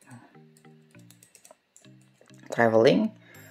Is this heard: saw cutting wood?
no